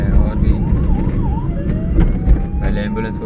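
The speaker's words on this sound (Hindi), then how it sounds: "एम्बुलेंस अगर हॉर्न बजा रही है, अपना सायरन बजा रही है" Ambulance siren on a road, a wailing tone rising and falling in quick sweeps, then shifting to a steadier pitch, heard through loud low traffic rumble and road noise.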